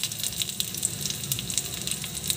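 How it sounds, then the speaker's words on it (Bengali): Onions frying steadily in oil in a pan for a fish curry with potato, cauliflower and white brinjal, a continuous close sizzle with small crackling pops and no talk. "পেঁয়াজটা ভালো করে ভাজা হয়ে গেছে।"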